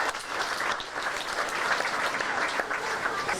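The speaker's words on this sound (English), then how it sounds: "Let's give him a big round of applause" Audience applause fills a Disney-MGM Studios theme park show in 1989, a dense, steady clapping from a crowd that holds at an even level throughout.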